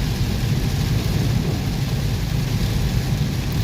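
Heavy rain pours down with thunder on Route 226 in Sisaket province, Thailand, a steady loud wash of rain with low rumbling throughout and no talking.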